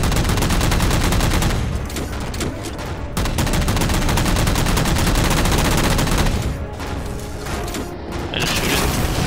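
Rapid, continuous gunfire in the video game Halo 4, shooting at a jammed hatch to a maintenance causeway, loud and dense with brief pauses and mechanical clanks between bursts.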